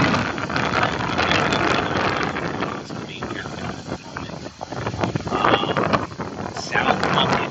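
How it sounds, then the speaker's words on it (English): Gusty night wind buffeting the microphone outdoors, a loud, fluctuating roar with a voice talking over it at times. "It is extremely windy tonight."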